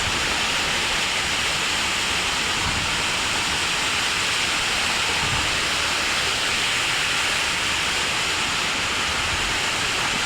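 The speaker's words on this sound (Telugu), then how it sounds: "చూసారు కదా ఫ్రెండ్స్ జలపాతం ఇది శ్రీ శ్రీ దారులమ్మ తల్లి జలపాతము" Daralamma Thalli waterfall at Darakonda gives off a continuous, dense roar of falling water, loud and unbroken from start to finish with no other sounds standing out.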